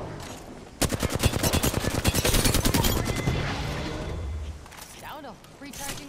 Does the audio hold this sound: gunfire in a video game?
yes